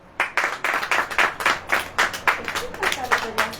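A church congregation claps in a quick, regular rhythm, a dozen or so sharp beats in a few seconds, fairly close and loud.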